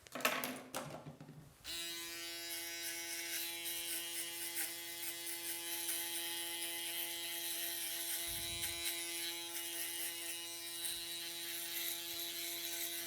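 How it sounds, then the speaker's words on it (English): An electric foil shaver starts after a brief rustle and hums with a steady buzzing drone, shifting slightly in tone as it moves over the hair. "Foil shaver."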